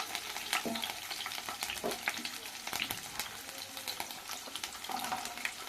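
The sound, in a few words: stirring and frying chilli chicken ingredients in a pan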